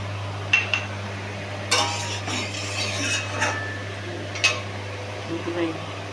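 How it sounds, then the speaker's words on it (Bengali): A lid goes onto a cooking pot in a home kitchen, heard as a few light metallic clinks and a short scrape, close by over a steady low hum, with a person talking in between. "একটু ঢাকা দিয়ে দিই, ঢাকা দিয়ে দিই আর একটু হালকা ঢাকা দিয়ে দিলাম।"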